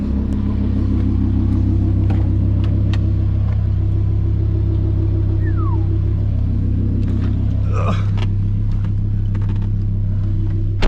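A green Lamborghini rumbles steadily at a low, close engine note, mostly constant with a slight shift near the end, while someone talks over it.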